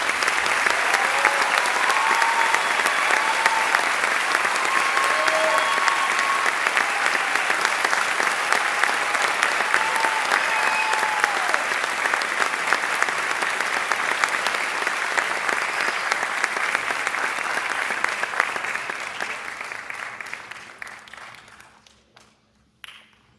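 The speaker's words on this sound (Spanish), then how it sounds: "para reconocerles con un fuerte aplauso por parte de todo este auditorio" Loud sustained applause from a large audience filling a university auditorium at an academic awards ceremony, steady for a long stretch before fading out near the end.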